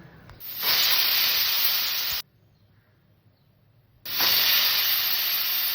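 A pressure cooker cooking dal lets out a loud, steady hissing whistle for over a second, cuts off into near silence, then starts again just as strongly.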